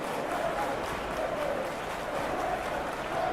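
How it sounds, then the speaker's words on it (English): Simulated stadium crowd in a PES 2021 football match between West Ham and Nottingham Forest, a steady wash of cheering and applause-like roar with faint voice over it. "Now the crowd are demanding that they just finish this off."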